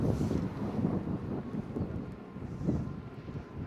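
Heavy wind buffets a DJI Mini Mic clipped on a rider of a bike moving at up to almost 40 km/h in snowy weather, a loud, constant low roaring rumble with gusty swells throughout.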